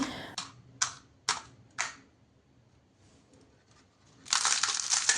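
Several sharp, crisp crunches of thin, crispy papdi, spaced apart, each a brittle snap, followed by a louder rustling crunch near the end.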